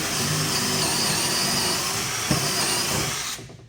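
A steady, high-pitched power drill boring a pocket hole in wood with a Kreg jig whines continuously for a few seconds, close up, then winds down at the end.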